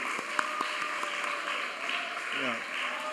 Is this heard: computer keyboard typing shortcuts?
no